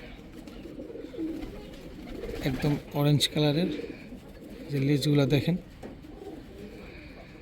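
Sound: male pigeon cooing

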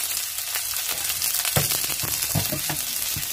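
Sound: chopped onion and green chillies frying in a pan

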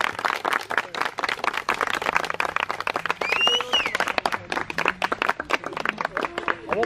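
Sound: family clapping at a birthday party

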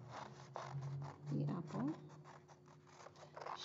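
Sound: scissors cutting red paper

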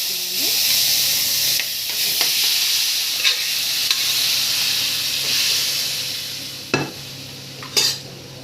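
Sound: boiled mutton pieces sizzling in a kadai

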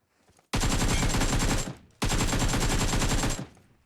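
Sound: gunfire in video game PUBG Mobile

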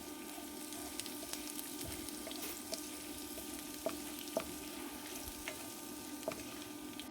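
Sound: spices frying in oil

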